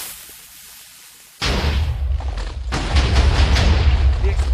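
TNT cannon in Minecraft: quiet ambience, then a sudden loud booming blast followed by several more rapid overlapping explosions that rumble on to the end.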